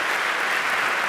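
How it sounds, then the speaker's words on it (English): Audience applause for Donald Johanson and Richard Leakey after a conversation on human evolution, a brief, dense, even wash of clapping from a crowd. "How about a nice round of applause for Dr."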